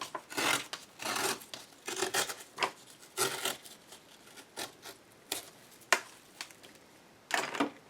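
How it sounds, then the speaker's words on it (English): Gelli print paper is torn into strips by hand in a series of close, quiet ripping bursts, some longer and some short, with brief pauses between them. "I'm going to rip a few more strips."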